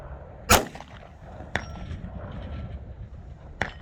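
Pistol shots at an outdoor shooting range, fired one-handed: three sharp, separate reports spaced roughly a second or two apart, the first loudest, each with a short ringing tail over faint background noise.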